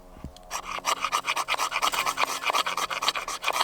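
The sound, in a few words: scraping fire steel to make fine shavings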